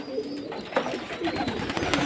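Pigeons coo in low, throaty bursts while splashing in bathing water on a hot day, the calls close and moderately loud among soft fluttering and watery noise.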